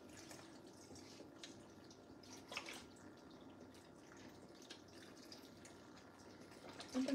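A steady, quiet pour of broth streams into a slow cooker, with faint splashes and trickling throughout.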